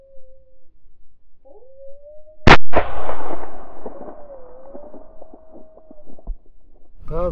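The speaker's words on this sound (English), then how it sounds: "That was a good shot there, Shawn." A single sharp rifle shot cracks out during a coyote hunt, loud and close, its boom rolling away in a long echoing tail across open country while a faint animal-like whine trails before and after.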